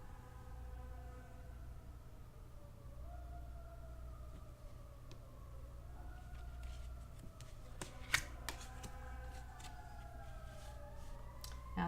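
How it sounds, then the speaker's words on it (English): Emergency sirens wailing faintly outside, their pitch rising and falling in slow sweeps over a low steady rumble, with a few soft card-shuffling clicks nearby. "the sirens are going off out there"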